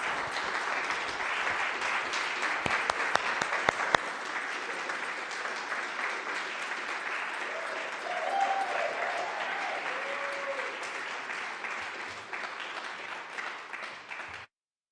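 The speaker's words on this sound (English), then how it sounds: "So please, round of applause." An indoor evening audience at a talk gives a sustained round of applause for two speakers, dense steady clapping with a few louder claps early, fading out at the end.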